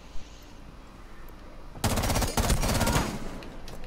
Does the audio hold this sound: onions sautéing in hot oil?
no